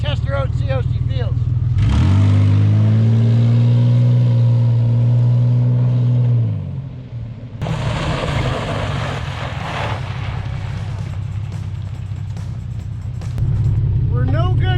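Ford Explorer engine droning and revving loudly from inside the cabin as it is driven on a test run, a strong rise in pitch early on, then a steady rumble with road noise.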